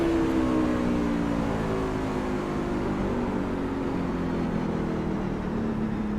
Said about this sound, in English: No, he's downshifting in the turn.